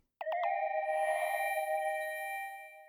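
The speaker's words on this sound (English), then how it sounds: "Then I've got this high pitched layer, which sounds like this" A high, bell-like synth tone with reverse reverb enters with a couple of rapid stuttered hits, then holds a clear sustained pitch that fades slightly.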